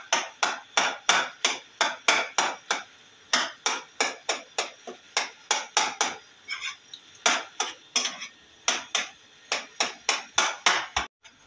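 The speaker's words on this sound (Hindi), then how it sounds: "अच्छी तरह हमने इसके अंदर टमाटर को मैश कर दिया" A utensil pounds tomatoes being mashed in a pan for keema karela, making a steady run of loud, rapid metallic knocks, about two per second, with a brief pause midway.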